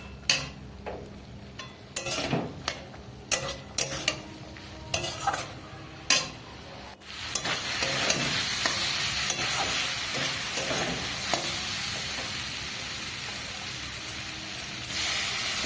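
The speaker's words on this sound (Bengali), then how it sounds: "সেটা আর একটু কষিয়ে নিলাম মটর দিয়ে" Peas and masala being stir-fried in a pan for ghugni: a run of sharp spoon scrapes and knocks, then a steady loud sizzle takes over and holds to the end.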